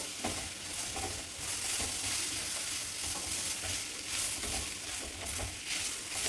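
A brinjal pachadi tempering is stirred in a hot pan, with a continuous sizzle broken by repeated scraping strokes of the spoon at an uneven, busy rhythm, fairly close and with no talk.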